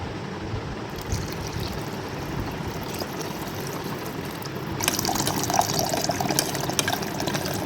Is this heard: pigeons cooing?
no